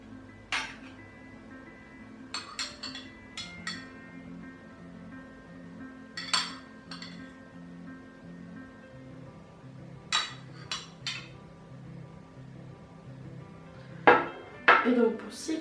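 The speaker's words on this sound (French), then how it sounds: "je vais mettre de l'huile de coco dans le récipient." Coconut oil is put into a container while utensils clink and tap, sharp scattered metallic and glassy knocks spaced a few seconds apart over a quiet background, with a cluster of clinks near the end.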